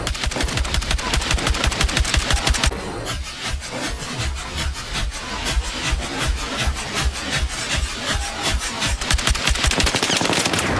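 Rapid automatic gunfire from the video game Battlefield 6 rattles in dense, continuous bursts, loud and close, with a brief shift in texture midway before the shooting resumes.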